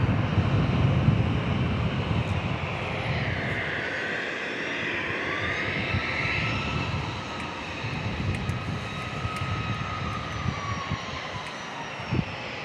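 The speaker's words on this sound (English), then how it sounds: "737 here next with the winglets" A Boeing 737 with winglets lands at San Diego International Airport, a loud, sustained jet roar with a sweeping engine whine that shifts as it passes close by, mixed with wind rush.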